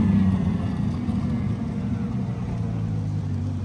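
LaFerrari Aperta hypercar passing on the streets of Monterey, a steady loud low engine drone that holds for the full stretch without a sharp rise or fade.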